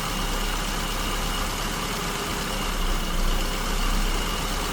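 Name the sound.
engine idling with SU carburetor, RPM dropping from lift pin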